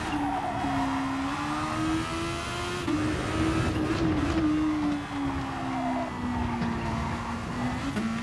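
Engine of a Formula racing car on the Nürburgring GP circuit in a racing video game drones at high revs, its pitch dipping as the car brakes hard into corners and then climbing again.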